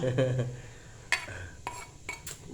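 A cooking pot is scraped with a metal utensil in a home kitchen, giving a few sharp clanks and rasping scrapes spread over a couple of seconds, close and moderately loud.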